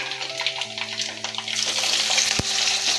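Onion, green chilli, ginger and curry leaves hitting hot oil with mustard seeds in a pan for an egg curry, giving a steady broadband sizzle that swells and stays loud, with a sharp clatter near the end.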